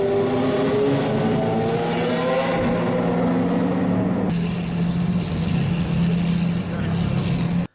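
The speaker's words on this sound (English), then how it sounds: "a couple of Koenigsegg's that were cruising around Monaco during the Grand Prix" Koenigsegg supercars cruising the streets of Monaco during the Grand Prix, engines droning with rising and falling revs, one loud pass sweeping by midway before a rougher engine note takes over, with voices talking underneath.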